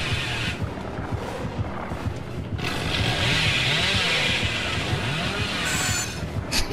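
The Hillbilly killer's chainsaw in the video game Dead by Daylight revs and whines loudly and close, its pitch rising and falling in repeated surges over a rough mechanical rattle.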